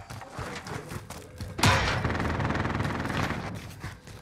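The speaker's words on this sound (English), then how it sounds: "Sentry deployed. Only sentry gun online." A deployed sentry gun in Call of Duty: Modern Warfare opens up with a sudden loud burst and keeps firing in a steady rapid stream of shots for a couple of seconds amid mechanical clatter.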